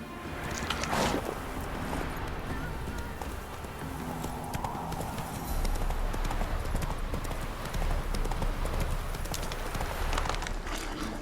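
Horse hooves from The Witcher 3 gallop in a continuous clip-clop beneath ambient game sound and faint background music, with no clear talk.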